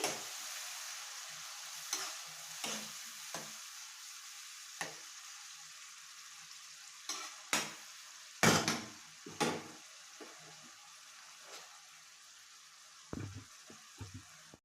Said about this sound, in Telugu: అది వేసిన తర్వాత బాగా కలకండి ఒక త్రీ ఫోర్ మినిట్స్ బాగా వేయించి